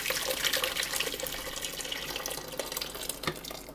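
Strained asparagus soup poured back into a cooking pot, a steady liquid pouring and splashing sound that runs continuously from start to finish, close and fairly loud, with no talking.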